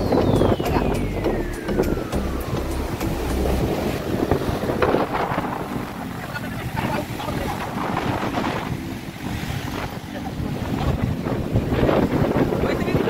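Rough monsoon sea surf churns and crashes at Bhogwe Beach beneath steady, gusty wind buffeting the microphone, a loud continuous roar throughout.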